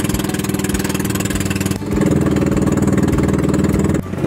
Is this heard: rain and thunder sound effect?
no